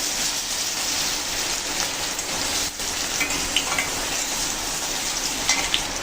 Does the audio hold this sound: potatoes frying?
yes